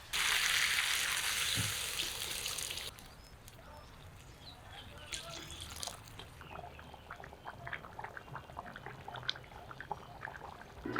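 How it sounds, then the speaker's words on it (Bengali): Water poured into a pan of frying goat liver curry with jackfruit and potato gives a loud rushing pour and sizzle for the first few seconds, then fades to quiet bubbling and small clinks. "এখন ঝোলের জন্য অল্প জল দিব"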